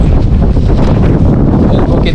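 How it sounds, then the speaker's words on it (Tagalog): Strong wind gusts roar across a sandy beach, buffeting the microphone with loud, continuous low rumbling throughout. "Mabuhangin na po dito at mahangin."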